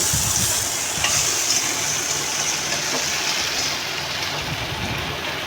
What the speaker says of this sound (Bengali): আমরা এখানে পেঁয়াজের সঙ্গে ভালো করে কাঁকড়াগুলিকে নিয়ে চেড়ে নেবো